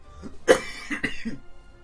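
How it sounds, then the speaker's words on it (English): Someone coughs a few times in quick succession, one sharp loud cough followed by two or three smaller, rougher ones. "I'm sorry for all the coughing."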